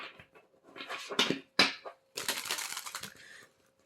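Tarot cards riffle and snap together in several quick bursts, followed by a longer crisp hand-over-hand shuffling rustle, close and clear.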